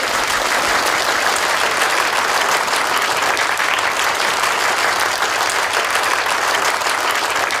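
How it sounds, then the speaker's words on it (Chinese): Loud, sustained applause fills a company's 20th anniversary gala reception, many hands clapping densely and evenly throughout with no voices over it. "掌声欢迎"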